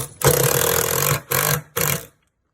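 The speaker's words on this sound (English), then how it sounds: "Put it into an impact wrench with a socket." A pneumatic impact wrench with a socket drives in the mounting bolts, three loud close bursts of buzzing whir, a long first run followed by two short ones, then silence.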